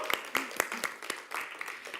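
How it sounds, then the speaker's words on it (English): A small café audience claps for a band at a song café event, a sparse scattering of distinct hand claps that thickens into softer, moderately distant applause, with a voice faintly audible underneath. "So can we give them another big round of applause?"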